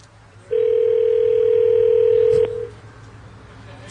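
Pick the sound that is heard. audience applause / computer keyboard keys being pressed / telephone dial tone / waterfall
telephone dial tone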